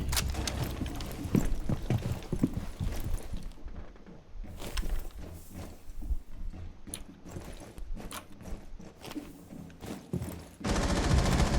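Rainbow Six Siege gunfire in a headshot-only arcade match: loud, repeated shots and rapid bursts across the whole stretch, with short quieter gaps and footstep-like clatter between them.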